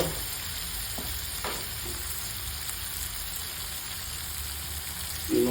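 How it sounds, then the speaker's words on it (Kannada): Boti sizzles and fries steadily in a pan while being stirred, a dense close hiss with a few scraping stir strokes and a louder spatter at the end. "ಆಗಪ್ಪ, ಚೆನ್ನಾಗಿ ಫ್ರೈ ಆಗಪ್ಪ."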